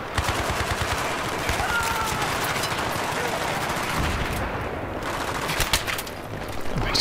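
Battlefield 3 video game gunfire sounds steadily throughout, with loud continuous automatic bursts and shots layered over dense battle noise and no talking.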